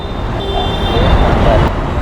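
Dense roadway traffic on a holiday, a loud, steady wash of car, bus and truck engines rumbling nearby with faint horn tones, and a voice speaking over it.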